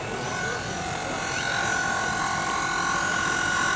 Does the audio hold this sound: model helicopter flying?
yes